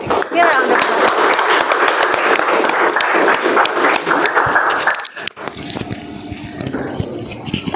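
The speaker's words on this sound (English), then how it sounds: "Give a round of applause" An audience at a Toastmasters club meeting claps loudly and steadily for about five seconds, then the applause thins out as talking and stage movement take over.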